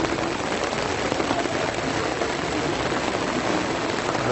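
Heavy rain pours down steadily in Ocotepec, Morelos, Mexico, heard from under shelter, a dense, even hiss of drops drumming on a nearby surface with no pauses.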